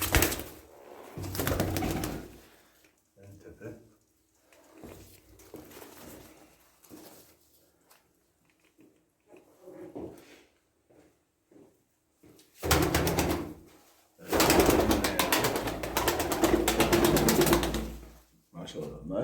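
Takla pigeons coo in low, throaty bursts in a loft in St. Gallen, Switzerland, with a loud flurry of flapping wings near the end; people talk in between.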